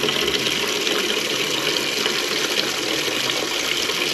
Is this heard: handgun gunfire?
no